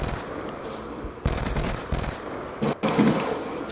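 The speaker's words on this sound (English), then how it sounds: "Maybe I forgot this gun was 3 bursts" Three-round bursts of gunfire in an online multiplayer shooter, with several sharp broadband bursts crackling over continuous loud game noise. Heavy shots land around the middle and near the end.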